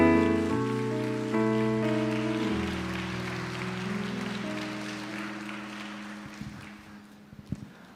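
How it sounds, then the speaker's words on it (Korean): An audience claps in welcome as a lecturer comes forward at a church family seminar, a steady broadband patter that thins out toward the end, with a sustained musical tone underneath. "우리 강사님 앞으로 나오실 때 우리 뜨거운 박수로 한번 환영하면 좋겠습니다."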